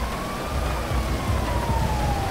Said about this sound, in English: let's move out the way for the ambulance